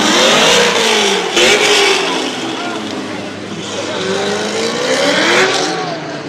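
A drag racing car at a speedway revs hard with no traction, loud rising and falling engine sweeps dominating the scene, with voices chatting over the noise.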